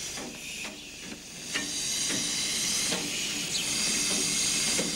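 Steam locomotive Southern Maid hissing at a railway station terminus beside a turntable: a loud, steady broadband hiss with a few sharper bursts of escaping steam, no voices.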